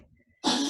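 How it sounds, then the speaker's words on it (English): A dog gives a short, harsh cough after a moment of near silence, a single rough expulsion of breath close by. "Please excuse my dog, she's coughing."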